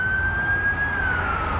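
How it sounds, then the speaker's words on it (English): An ambulance siren passes on a street in Cleveland, Tennessee, a steady loud wailing tone that slowly drops in pitch as it goes by, heard alone over road noise. "there's an ambulance going by"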